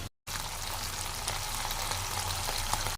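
Small fish frying in hot oil for a Bengali chorchori, giving a steady, dense sizzle that runs unbroken after a brief silent gap at the start, close and fairly loud with no talk.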